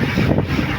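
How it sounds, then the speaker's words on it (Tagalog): Strong wind buffets a boat at sea between Bohol and Surigao off Negros, a loud, continuous roar right at the microphone with the churn of rough water beneath. "siguro rinig nyo ang hangin, medyo maingay"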